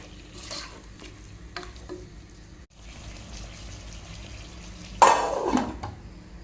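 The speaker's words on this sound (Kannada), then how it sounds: "ಉಪ್ಪು ಮತ್ತು ಅರಸಿನ ಹುಡಿ ಹಾಕಿದ ಮೇಲೆ ಇದನ್ನೊಮ್ಮೆ ಮಿಕ್ಸ್ ಮಾಡಿ" Chicken curry with salt and turmeric is mixed in a pot, with scattered spoon taps and soft stirring over a low sizzle, then a louder burst of scraping and clatter toward the end.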